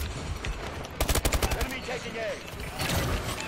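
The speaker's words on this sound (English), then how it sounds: "they just got wrecked by that bombing" Bombing attack in Call of Duty Advanced Warfare, a quick cluster of heavy concussive blasts thudding in succession amid gunfire, with a voice talking over the noise.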